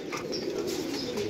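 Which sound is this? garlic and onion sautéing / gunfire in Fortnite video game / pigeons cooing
pigeons cooing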